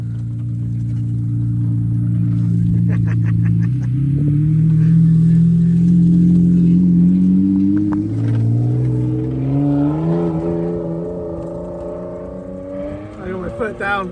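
A car's engine is driven hard in a race against another car, its growling tone climbing steadily in pitch as it accelerates, loud and close throughout.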